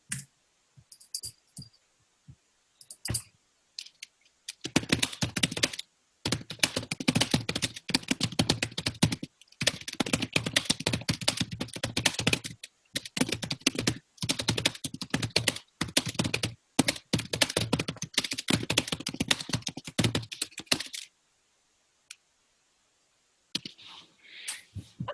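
Steady fast typing on a computer keyboard, close and clear, with dense runs of key clicks broken by short pauses and quieter stretches at the start and end.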